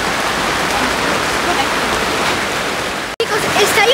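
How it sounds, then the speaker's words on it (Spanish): Heavy rain pours down in a steady, dense roar, loud and close throughout, with a brief dropout near the end. "Está lloviendo un montón."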